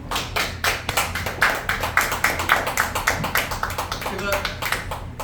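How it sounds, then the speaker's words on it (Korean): Scattered clapping from an audience at a graduation ceremony for a life-school PD instructor course, sharp claps repeating irregularly and fairly close, with a speaker's voice and room murmur continuing underneath. "그분께 박수 한번 쳐주시고"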